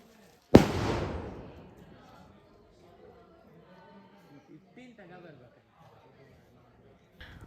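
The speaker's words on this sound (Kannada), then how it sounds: "ಇನ್ನೊಂದು ಕಡೆ ಪಟಾಕಿ ಹೊಡೆಯೋಕ್ಕೆ ಸ್ಟಾರ್ಟ್ ಮಾಡಿದ್ರು ಇವರು." A single sharp firecracker bang goes off at a village house during a Ganesha pooja celebration, loud and close with a ringing decay, followed by people talking at low level.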